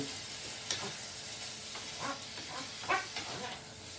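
Peas, spring onions and onion stir-fry in a large pan for chicken fried rice, with a steady low sizzle broken by several sharp scraping stirs spaced irregularly, close and fairly loud.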